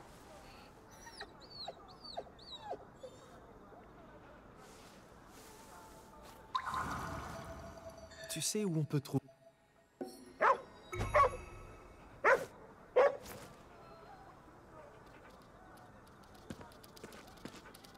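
Dogs wearing bandanas bark in Ghostwire: Tokyo, several sharp barks spaced out across the second half over a steady game ambience, after a short spoken line and a burst of rustling noise.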